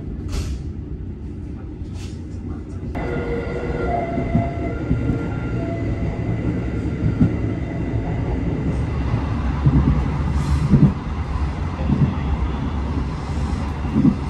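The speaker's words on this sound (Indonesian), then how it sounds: "Sekarang kereta api Matarmaja jam 12:30 berhenti di stasiun Kediri" The Matarmaja passenger train pulls into Kediri station with heavy rolling rumble, rail clatter and brief wheel squeals, loud and close throughout, with no talk over it.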